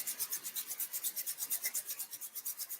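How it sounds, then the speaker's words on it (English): Hands rub briskly together after a few drops of essential oil, a close, even swishing friction in a fast steady back-and-forth rhythm of about seven strokes per second. "Rub your hands together."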